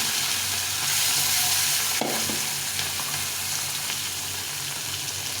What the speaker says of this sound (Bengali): মাছগুলো ভেজে নিয়ে রান্নাতে যাবো